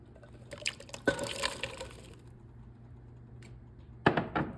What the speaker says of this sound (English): I'm going to put in the broth